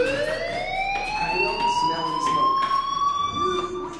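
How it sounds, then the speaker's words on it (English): A fire alarm in the video game Life is Strange wails loud and close, a rising electronic siren tone that sweeps upward and holds steady, with a voice speaking briefly underneath. "Hey, do you hear that fire alarm? That means you should be outside."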